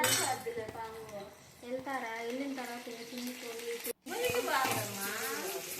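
Fish frying for Nellore fish curry, a steady sizzle running through most of the stretch with a brief break near the end, heard under ongoing speech with occasional utensil clinks.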